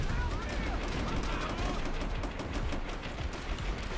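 A Type 100 submachine gun fires in the video game Call of Duty: World at War in dense, continuous rapid bursts that run for several seconds, with a busy battle din and some voice mixed in.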